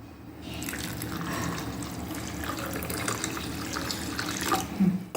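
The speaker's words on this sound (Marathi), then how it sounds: "आता यात मी पाणी घालणार आहे." Water runs in a steady close stream into a ground peanut and green chili paste for amti, with a few splashy bursts near the end and no voices.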